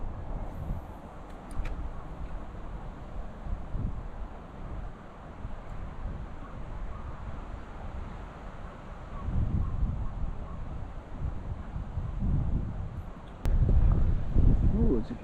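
Wind blows outdoors on open water during a kayak fishing trip, a steady broadband rush with rougher gusts later in the clip and a voice heard speaking over it.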